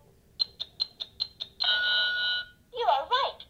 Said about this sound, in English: if they get it right, they'll hear a chime sound